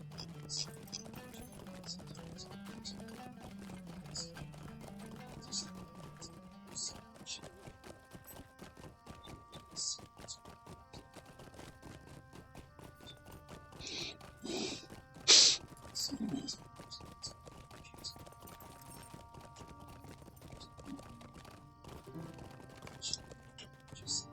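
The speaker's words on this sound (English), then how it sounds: "we'll go ahead and take the horse back to Adso's camp" Horse hooves clip-clop steadily in the Lord of the Rings Online game, an even rhythmic trot under a quiet music bed, with one sharper louder hit near the middle.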